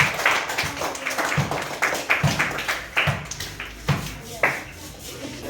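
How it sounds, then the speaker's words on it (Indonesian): A classroom group claps in a quick, rhythmic pattern, a series of sharp, evenly spaced hand slaps forming a chant-like applause for group 2, close and moderately loud with voices mixed in. "tepuk tangan buat kelompok 2"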